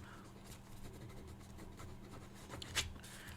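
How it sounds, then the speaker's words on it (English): Pen scratching notes on paper, soft and close, with a few light strokes and a brief sharper scrape near the end over a quiet background. "Let me write this down."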